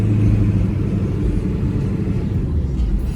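1996 Ford F350 pickup with the 7.3 diesel pulling hard on a freeway: a dense, loud, low engine rumble with road noise, heard from inside the cab and steady throughout, with no talk.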